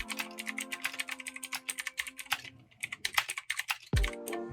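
Fast, uneven typing on a Xinmeng RF912D 87-key wireless mechanical keyboard: a dense stream of close, clacky keystrokes with short pauses and one louder thump near the end, and no voices.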